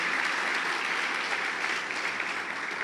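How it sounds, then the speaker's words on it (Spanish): A church congregation breaks into loud, sustained applause, dense clapping at even strength throughout with no voices standing out. "Alguien le tiene que dar un aplauso fuerte al Señor en"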